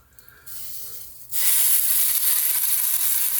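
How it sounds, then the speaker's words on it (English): Bacon strips hit a hot electric skillet and set off a sudden loud, bright sizzle that continues steadily, preceded by a brief quieter hiss and rustle. "we're going to start putting our bacon in here"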